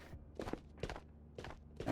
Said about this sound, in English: I like to pause and still confirm that I'm hearing footsteps from the bots.